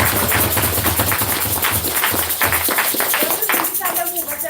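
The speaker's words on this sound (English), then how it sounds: "A round of applause." An audience at an African cultural event claps in a dense, lively burst of applause, loud and close, mixed with talking voices and cheers.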